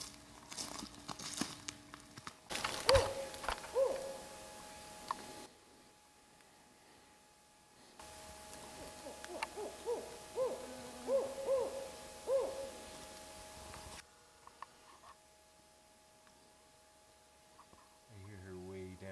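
An owl hoots in a high forest at night, giving several short, clear calls in two bursts, with faint rustling and crinkling nearby and brief low voices between them.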